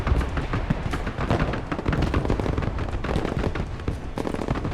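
Artillery strikes in the war game Broken Arrow, a relentless barrage of heavy booms and crackling blasts pounding one after another at close range.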